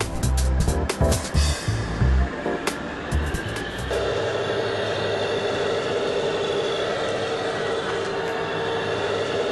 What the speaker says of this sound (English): This time, they made the engine noise using a computer.